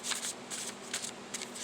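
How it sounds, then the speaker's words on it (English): Oversized oracle cards from a new deck are shuffled by hand in several quick riffling bursts, close and fairly soft, with brief pauses between bursts. "So the cards shuffle pretty good, but these are very oversized cards."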